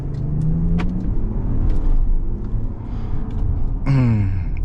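A 420-horsepower Jeep Wagoneer launches uphill with a loud, close engine roar that holds steady through most of the moment. A rising rev sweep comes near the end, and no one speaks.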